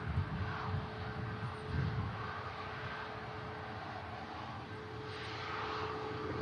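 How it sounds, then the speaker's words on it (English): A British Airways shuttle airliner on approach to Manchester Airport, its engine drone steady and moderately distant, with a faint whine running through the low rumble and no voices. "There's a British Airways shuttle service coming in."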